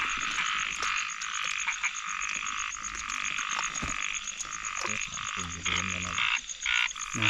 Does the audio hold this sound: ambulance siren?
no